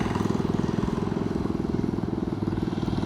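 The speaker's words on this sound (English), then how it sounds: "There's a mini bike, a little scooter going by there. One of those scooters with a lawnmower engine on it." A small mini bike scooter fitted with a lawnmower engine putters steadily past outdoors, a continuous loud rattling drone with rapid regular engine pulses and no speech.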